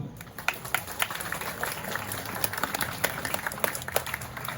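Scattered audience clapping at a Calonarang temple performance at Pura Gunung Lebah in Ubud, a loose run of individual claps over steady outdoor crowd murmur, moderately distant and fairly faint.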